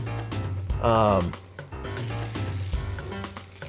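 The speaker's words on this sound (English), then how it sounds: "You hear that sizzle? That's how you know it's cooking." Scrambled eggs sizzle and crackle in a hot pan, a steady frying hiss, while a person talks over it.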